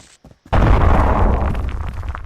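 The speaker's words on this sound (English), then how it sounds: "So you can press B, throw a bomb on it." A thrown bomb explodes against a blockade in a video game, a single loud booming blast that bursts in after a few faint clicks and rumbles on as a sustained roar that slowly fades.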